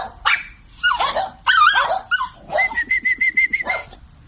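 Dogs kept in a small pen bark and yelp nearby in loud, excited bursts, ending in a rapid run of short, high-pitched barks.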